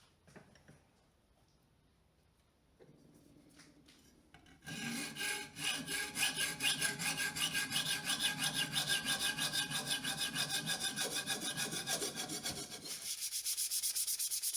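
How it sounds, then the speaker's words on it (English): Hand files rasping along the edges of a handmade spear blade, a steady rapid back-and-forth scraping that starts after quieter handling noises and runs loud and close for several seconds. "I use a set of files to smoothen the edges and to get the details on the blade"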